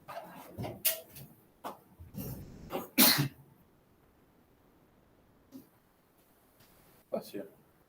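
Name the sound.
sneeze in a classroom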